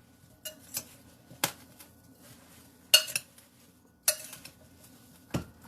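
A utensil stirs strawberries with sugar in a bowl, making sparse clinks and scrapes spaced a second or so apart, each short and fairly close, against a quiet background.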